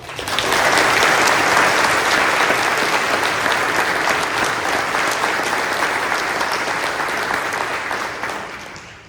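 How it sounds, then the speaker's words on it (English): A large audience at a naval hospital change of directorship ceremony gives a loud, dense round of applause that holds steady for about eight seconds before tapering off. "Let's give them a round of applause"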